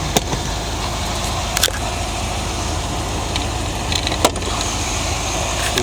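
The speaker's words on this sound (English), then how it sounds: "Incredible engine. Brought up to the L82 specs." A restored 1980 Corvette C3 engine, originally an L48 and brought up to L82 spec, runs with a steady, close, even rumble throughout, broken by a few brief sharp clicks.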